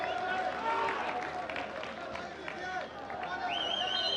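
Home crowd at an Under-17 Africa Cup of Nations football match between Morocco and Egypt roars in a sustained wash of cheering and noise just after a Moroccan goal, steady and loud beneath a commentator's voice.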